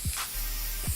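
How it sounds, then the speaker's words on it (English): A short hiss of coconut oil aerosol spray, two quick bursts near the start and end, close and fairly loud with a faint background hum. "coconut oil spray"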